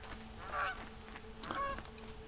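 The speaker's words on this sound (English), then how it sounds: "Ducks." Ducks in the video game Horizon Zero Dawn give two honking, nasal calls about a second apart over a low ambient background, faint and without speech.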